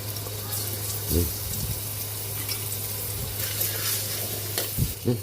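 Garlic sizzles in a small amount of cooking oil in a frying pan while bitter gourd is being prepared, a steady soft frying hiss with occasional stirring clatters and faint background speech.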